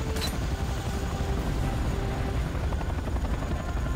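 A helicopter in the game C&C Renegade drones steadily with a loud, continuous rotor throb, accompanied by a brief sharp click at the start; no speech over it.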